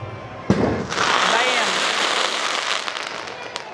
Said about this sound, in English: there goes the fireworks